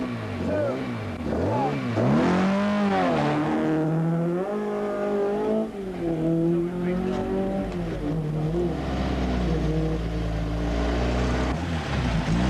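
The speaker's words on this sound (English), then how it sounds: "Dennis Quinn in car number 8 was having his first attempt at Mull and lying 19th overall." A 1987 Tour of Mull rally car, number 8, drives past with a loud engine that rises and falls in pitch as it revs and shifts, continuous throughout under a commentator's talk.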